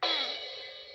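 A single bright crash-like tone from an electronic keyboard, set to a sound effect resembling a bowl breaking, strikes sharply and then rings and fades over about a second, quiet and alone.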